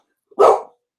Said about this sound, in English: Gabby, I got the dog barking.